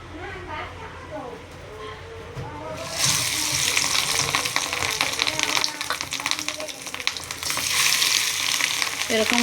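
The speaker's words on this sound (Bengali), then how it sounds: "এবার বড়াগুলো ভেজে নেব।" Potato vadas deep-frying in hot oil in a wok, a loud, close, continuous crackling sizzle that swells sharply as the vadas go in, with faint sounds and some talk near the start.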